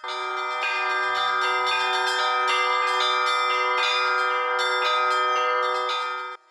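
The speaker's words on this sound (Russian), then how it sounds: "Гость из Белоруссии показал залу основные приемы канонических звонов православной церкви." Orthodox church bells ring in canonical chimes, several bells struck together in a steady, overlapping peal that stays loud and sustained throughout, alone without any talk.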